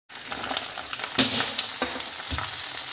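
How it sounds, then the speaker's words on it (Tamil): Onion, green chili, ginger and garlic dropped into hot oil for sundakkai puli kuzhambu, a sudden loud sizzle that settles into a steady hiss with a few stirring clicks. "ஸோ இப்போ தக்காளி இல்லாமல் மற்றது எல்லாத்தையும் போட்டு வதக்கிக்கலாம்."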